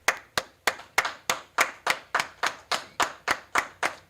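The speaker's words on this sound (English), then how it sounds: "All right, clap it up." Steady rhythmic clapping at an ISUPK gathering in Houston, sharp in-unison claps about four per second, crisp and fairly close, with no talking over it.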